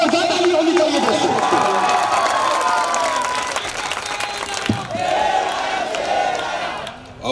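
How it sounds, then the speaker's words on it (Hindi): A large crowd at a political rally in Gujarat cheers and applauds loudly for a speaker, with shouting voices over sustained clapping that fills the whole stretch and swells again near the end. "साहब के लिए एक जोरदार ताली होनी चाहिए दोस्तों।"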